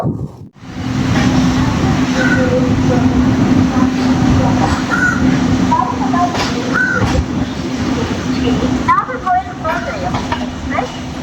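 The Thiruvananthapuram–Chennai Superfast Mail Express, trains 12623/12624, rumbles loud and steady alongside the platform at Trivandrum Central, with wind buffeting the microphone, a crow calling and a voice speaking over it.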